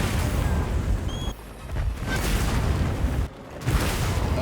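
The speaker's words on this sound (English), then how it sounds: "Set a bomb." Barrel bombs go off in Monster Hunter Wilds as loud, close booming explosions, one blast after another with short dips between them and rumbling debris in between.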